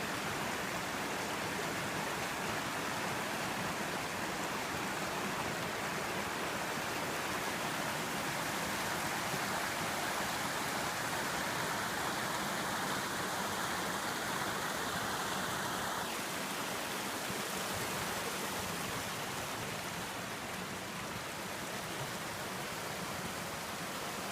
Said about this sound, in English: I thought I'd give you one more little show here of the creek